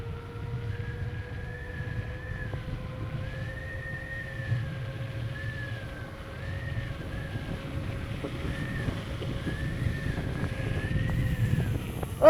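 An electric scooter, a Varla Eagle One V2, ridden flat out at about 40 mph gives a steady motor whine with a faint rising electric tone over constant low wind rumble and buffeting, and no talking.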